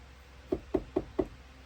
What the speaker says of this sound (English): Do people knock on the door anymore?